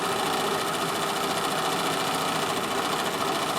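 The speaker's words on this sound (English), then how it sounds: "I will overlock that" An overlocker serges the edge of a fabric piece with black thread, a steady, fast mechanical whir that hums evenly and alone at close range for a few seconds.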